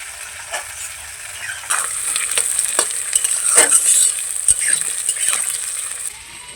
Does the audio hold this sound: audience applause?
no